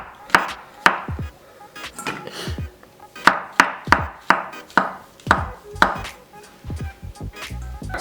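White mushrooms being cut with a knife on a wooden board, a series of sharp close chops in small uneven bursts with short pauses between.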